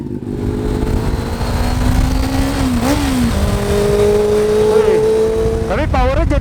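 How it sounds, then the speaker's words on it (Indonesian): A restored Honda CB400 motorcycle on a test ride runs loud and steady close by, its engine note holding, dipping and then climbing again as it revs near the end. "Akan test ride motor ini."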